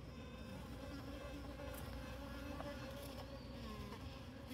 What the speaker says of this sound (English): That might be the queen that I'm hearing.